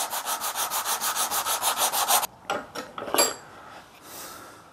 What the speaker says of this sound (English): And now just give it a bit of a sand.